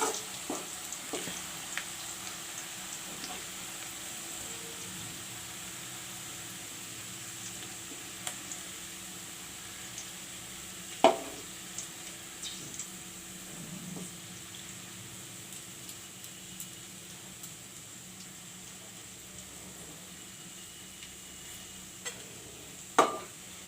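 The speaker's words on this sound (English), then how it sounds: "then I will take it out from the oil. Friends, this onion has gone brown." Onion frying in oil until brown, a faint steady sizzle with occasional soft ticks and clinks of a utensil against the pan, quiet and continuous throughout.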